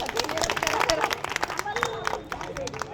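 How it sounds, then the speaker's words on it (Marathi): Children clapping during a classroom focus game, quick uneven claps mixed with lively chatter and movement from a group nearby. "जरा टाळ्या वाजव बघा."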